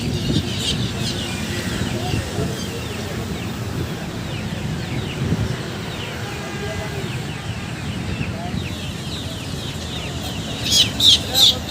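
Saguna desi chickens cluck faintly amid a noisy outdoor poultry market in Hyderabad, with wind buffeting the microphone and people talking in the background.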